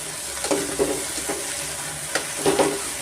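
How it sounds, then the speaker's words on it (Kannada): Lentils and potatoes sizzle in hot oil for a village-style avarekalu saaru, a steady hiss running throughout with a few spoon scrapes and stirring knocks scattered over it, close and moderately loud, no voices. "ಇವಾಗ ನಾವು ಇಕ್ಕಿದ ಬೇಳೆ ಮತ್ತು ಆಲೂಗಡ್ಡೆ ಹಾಕಿ ಫ್ರೈ ಮಾಡಬೇಕಲ್ಲ ಎಣ್ಣೆನಲ್ಲಿ"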